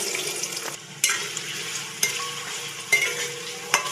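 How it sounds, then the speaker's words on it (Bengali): Finely chopped potato fries in hot mustard oil, a close, steady sizzle broken by regular scraping stirs about once a second. "একটা বড় সাইজের আলু এইভাবে কুচিয়ে নিয়েছি ছোটো ছোটো করে। এবার এটা ভেজে নেবো তেলে"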